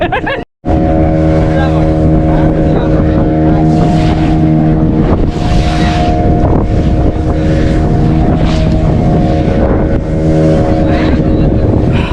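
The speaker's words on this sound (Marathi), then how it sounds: "ही जी बोट राईड आहे ही ओव्हरऑल बारा किलोमीटरची असते" A motorboat ride on the sea near Malvan in Konkan, with a loud, steady engine drone and heavy wind buffeting the microphone throughout, close and continuous, with voices partly audible under the noise.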